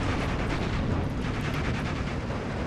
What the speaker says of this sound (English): Heavy artillery on the forested area down here